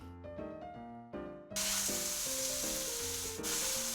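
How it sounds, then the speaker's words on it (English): Fries drop into hot oil and a loud, steady sizzle erupts and continues, with music playing underneath before and during the frying. "Let's just fry this."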